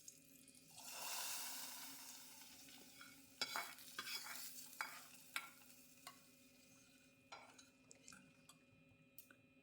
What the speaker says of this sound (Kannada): ಒಗ್ಗರಣೆನ ರಸಮ್ಗೆ ಹಾಕ್ಕೊಳ್ಳೋಣ.